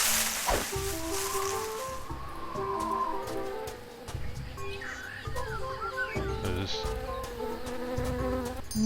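Bee buzzing in the Tales of Monkey Island video game, a continuous insect drone mixed with clucking fowl, tinkly game music and other effects.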